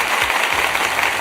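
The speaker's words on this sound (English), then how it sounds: "I'm gonna give you some applause here" Audience applause breaks out for a guest at a virtual townhall conversation, a dense, steady wash of clapping that fills the whole short moment.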